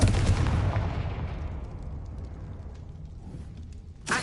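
A blasting Confringo spell explosion in the Hogwarts Legacy game: a loud booming burst with a long rumbling decay, then a sharp new hit at the very end.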